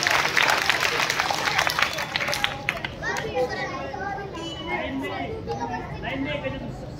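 Schoolchildren in a classroom give a burst of loud clapping for their classmates, which fades into scattered claps as kids chatter and an adult talks.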